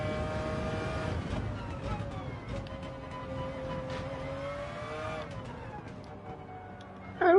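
Porsche engine in a racing video game, revving with rising and falling tonal whine over a low rumble, a sharp burst at the end, with a voice briefly audible.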